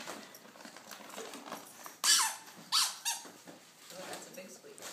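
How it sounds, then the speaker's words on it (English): A squeaky dog toy gives two sharp, loud squeaks close by, with a smaller squeak just after, while a person talks softly around them. "that's a big squeak."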